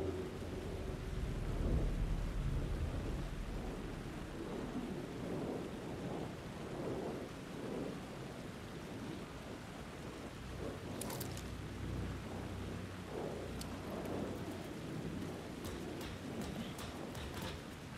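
Rain and thunder in the video game Alan Wake 2: a low, faint storm rumble under a steady rain hiss, with scattered sharp ticks and drips toward the end.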